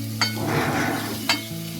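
Mushrooms frying in a pan of spiced masala for mushroom biryani, a steady soft sizzle broken by two sharp clinks of a spoon stirring against the pan.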